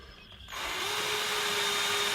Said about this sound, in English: just drill through the rubber.